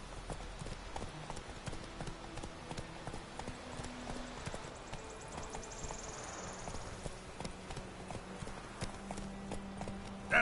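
A horse walks in the video game The Witcher 3, with steady hoof clip-clops repeating over a low background bed and occasional faint other sounds.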